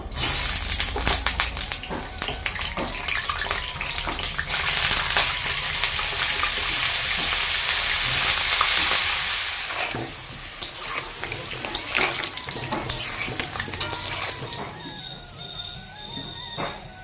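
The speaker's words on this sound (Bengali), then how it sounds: "লবণ আর হলুদ দিয়ে আগে আলুগুলোকে ভেজে নামিয়ে নিলাম" Potatoes seasoned with salt and turmeric frying in oil, a continuous loud sizzle with stirring scrapes and clatter, swelling midway then easing, with faint tonal sounds near the end.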